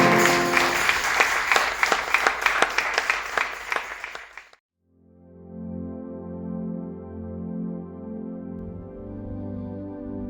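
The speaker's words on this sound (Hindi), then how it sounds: "आपका उत्तम ताली केवल यीशु मसीह के लिए बजाएं" A church congregation at a Sunday service claps together loudly for about four and a half seconds, then the applause cuts off and sustained keyboard or organ-like musical tones follow.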